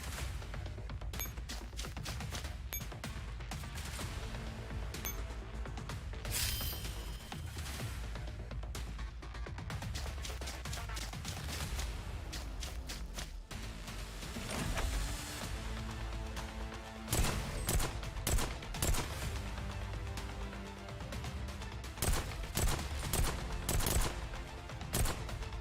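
Rapid gunfire from the video game Girls' Frontline crackles almost nonstop, dense overlapping bursts layered over a loud game soundtrack, with heavier volleys toward the end.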